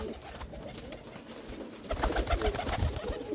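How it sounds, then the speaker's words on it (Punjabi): Loft pigeons give low, muffled coos amid a rough, noisy background, the coos and rustling growing louder and busier in the second half. "ਦੇਖੋ ਬਾਈ ਬਹੁਤ ਹੀ ਚੰਗਾ ਕਬੂਤਰ ਹੈ ਜੀ।"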